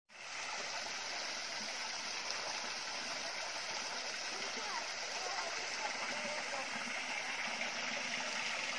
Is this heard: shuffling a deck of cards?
no